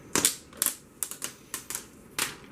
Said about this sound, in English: But also the most exciting part is ripping that sticker.